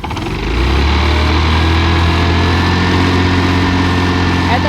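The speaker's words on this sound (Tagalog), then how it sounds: "Ngayon pakinggan natin yung sa makina niya." The engine of a 2003 Yamaha SV125 motorcycle runs at a steady, loud, close idle, starting up in the first moment and then holding an even throbbing drone throughout, with no speech.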